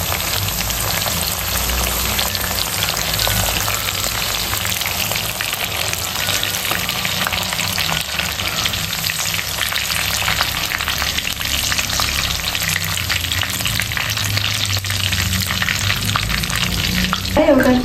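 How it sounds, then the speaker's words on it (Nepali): Chicken pieces fry lightly in oil in a pan for a spicy Nepali street-style chicken chilli, a loud, dense and unbroken sizzling hiss that holds steady throughout, close up. "हल्का फ्राई गर्नुपर्छ।"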